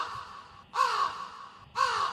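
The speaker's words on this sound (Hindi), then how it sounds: "फिर एक कौवा अचानक से शोर करने लगा।" A crow caws twice, harsh and clear, the calls evenly spaced and fairly close.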